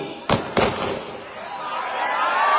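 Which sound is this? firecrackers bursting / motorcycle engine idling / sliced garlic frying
firecrackers bursting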